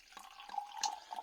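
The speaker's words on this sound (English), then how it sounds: "Let's pour some out into the glass" Unfiltered Monnow Valley Kingston Black cider poured from a bottle into a glass, a soft trickling, glugging stream with a few gentle pulses, close and quiet.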